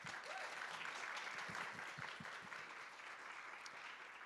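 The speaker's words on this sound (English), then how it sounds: "Huge shout out, and please applause." Faint, distant audience applause at a university symposium, a soft even patter of many hands clapping that holds steady and tapers slightly toward the end.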